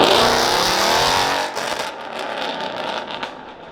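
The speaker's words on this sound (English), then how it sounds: "that Ferrari couldn't get in the show. He's just driving by." A Ferrari leaving the Ferrari Festival in Houston passes close by with a loud engine roar that fades as it drives away, leaving a lower rumble of traffic.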